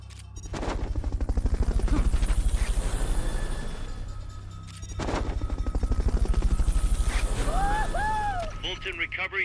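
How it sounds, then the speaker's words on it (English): A rhythmic, thumping helicopter rotor drone from the video game Metal Gear Solid: Peace Walker runs throughout, swelling and fading twice, with a game voice speaking over it and a brief electronic warble near the end. "Fulton recovery subject confirmed onboard helicopter."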